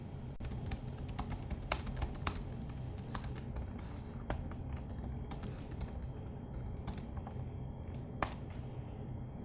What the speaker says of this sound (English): And then we'll type the following.